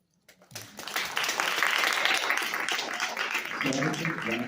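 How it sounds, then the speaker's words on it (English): Audience applause at a theatre Q&A session, a dense steady wave of clapping that swells in and holds loud throughout, with murmured voices beneath. "let's give one more round of applause"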